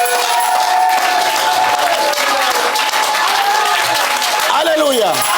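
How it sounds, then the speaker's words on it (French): A church congregation applauding and cheering for Jesus, loud continuous clapping from a large crowd with voices calling out and a sustained tone rising over it. "Acclamez pour Jésus"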